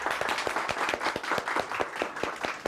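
Steady, dense applause from a crowd, many hands clapping continuously at close range with no talking.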